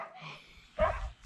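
A dog at a campground gives two short faint barks, the second sharper and louder, close by in quiet surroundings.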